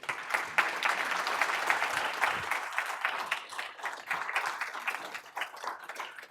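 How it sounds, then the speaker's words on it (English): An audience applauds after a keynote speech at the 2023 Harvard Africa Development conference, a dense, sustained burst of many hands clapping in a hall, moderately distant and continuous throughout. "Another round of applause for our keynote address."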